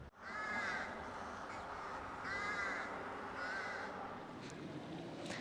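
Rooks cawing in a colony in the Swiss town of Thun, several harsh caws repeating in a steady rhythm over a constant background of many birds, fairly close and loud.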